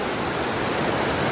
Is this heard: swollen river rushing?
yes